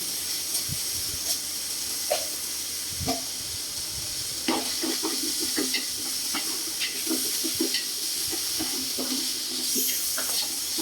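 Onions and fenugreek sizzle softly in a pan for fish head curry, with intermittent spoon scrapes and light clicks over a steady hiss, close and fairly quiet.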